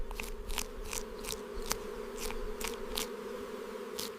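Bees swarm at a hive being raided by a honey badger. A dense, continuous buzzing hum fills the clip, with faint crackling or scratching sounds scattered through it.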